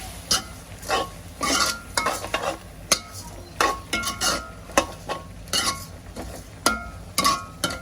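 Soya curry is stirred in a pot with a metal spoon, a rhythmic series of close scrapes and clinks against the pot over a faint sizzle.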